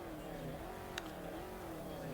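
Car engine steadily holding revs on the starting line of a quarter-mile drag race in the CSR Racing mobile game, a continuous moderate drone with a brief click partway through.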